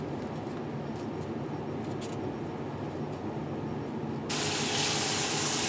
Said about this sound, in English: I know you're going to be seeing a lot of water flowing and wasting in this video